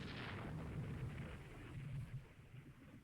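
A torpedo strike explodes in the naval strategy game Rule the Waves 3, a dense low rumbling roar that swells and surges for about three seconds, then slowly tapers off, with no talking.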